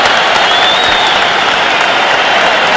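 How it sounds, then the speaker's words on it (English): A boxing crowd at Madison Square Garden keeps up a loud, sustained ovation, a thick roar of clapping and crowd noise that never lets up. "They won't stop applauding."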